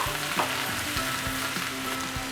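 Vegetables for veg dum biryani sizzle and fry steadily in a hot pan, with occasional stirring clicks against the metal, close and continuous throughout.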